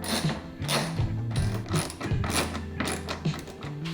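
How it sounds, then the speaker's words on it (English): A ratchet clicks back and forth while removing small T30 Torx screws on a BMW 120d xDrive, close and fairly loud, with uneven bursts of ratcheting and occasional metallic knocks and no talking. "we're removing 6 of these little Torx screws, and these are T30."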